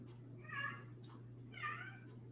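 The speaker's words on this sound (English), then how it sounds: "my cats are going to be screaming throughout this" A cat gives two distinct meows about a second apart, faint and somewhat distant over a steady low electrical hum in a quiet room.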